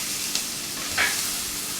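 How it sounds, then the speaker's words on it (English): Capsicum and onions sizzling steadily in a hot pan, a constant frying hiss with a couple of brief scraping stirs. "I am just sauteing the capsicum and the onions in it"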